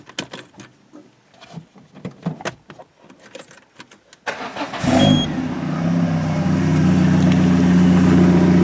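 After some clattering and rustling, a Peugeot 307 engine with a corroded exhaust turns over and settles into a loud, steady, rumbling idle that continues to the end.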